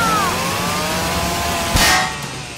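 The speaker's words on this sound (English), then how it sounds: "Oh, where'd she get a chainsaw?" A chainsaw revs in an animated cartoon, a loud buzzing whine with a short sharp burst near the end before it fades.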